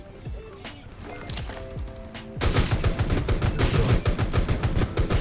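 Gunfire in the mobile battle-royale game Rules of Survival: a few scattered shots and pings at first, then a loud continuous rapid burst of automatic fire, with gameplay effects layered throughout.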